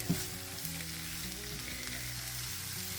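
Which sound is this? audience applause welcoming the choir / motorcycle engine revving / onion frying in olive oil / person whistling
onion frying in olive oil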